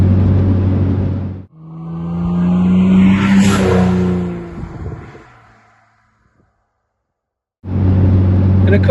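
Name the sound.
Aston Martin DB7 engine sound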